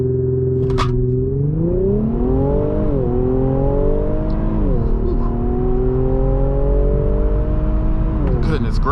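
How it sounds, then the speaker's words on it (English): A 2018 Infiniti Q60 Red Sport 400 launches hard from a brake-torque start in Sport Plus mode, its engine roaring loud and close as it climbs steadily through several upshifts with brief dips between gears, and no talking. "this time I'm going to brake torque it"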